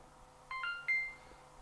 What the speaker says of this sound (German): Der typische Piepton.